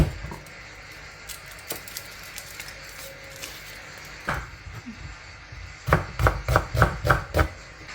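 A knife chops ginger for chicken soup on a board. Quiet scattered taps and handling noises come first, then a quick run of about six sharp, evenly spaced chops near the end.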